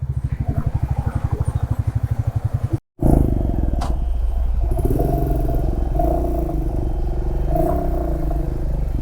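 Royal Enfield Bullet motorcycle crossing a stream on a mountain road trip toward Spiti Valley, loud close thumping single-cylinder exhaust that cuts out briefly, then revs hard with clattering and splashing strain.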